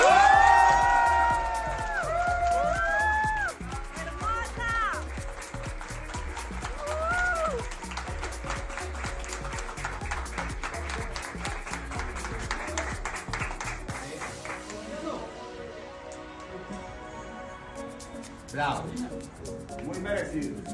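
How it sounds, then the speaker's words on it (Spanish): An audience applauds and cheers steadily for Miss Universe Colombia 2022, María Fernanda Aristizábal, a continuous patter of clapping with whoops, running under people talking. "les pido un fuerte aplauso para María Fernanda Aristizábal"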